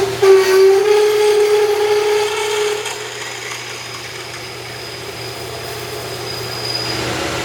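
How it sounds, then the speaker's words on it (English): A drill spinning at 1200 RPM bores into aluminum with a big bit, giving a loud, close grinding whine that holds for a few seconds, then eases into a lower, steady motor hum. "1200 RPM was a little high for this big drill bit. I had to really crank that thing."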